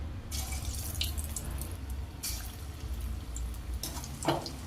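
Bottle gourd kofta fry in hot oil with a steady, close sizzle and hiss, broken by a few sharper bubbling flare-ups as pieces cook.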